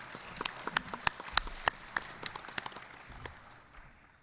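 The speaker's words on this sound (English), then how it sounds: "You could applaud for that." Scattered, faint hand claps from a small conference audience, a few distinct sharp claps, irregular and not fully joined into a wash, quickly petering out.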